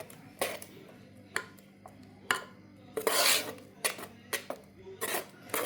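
A mixed dal batter with ginger, chilli and garlic paste being beaten in a bowl gives a run of uneven scraping and slapping strokes with utensil clatter, close and fairly quiet, with no talking.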